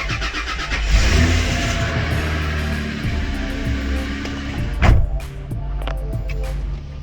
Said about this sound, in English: I'll start the car and rev it up a bit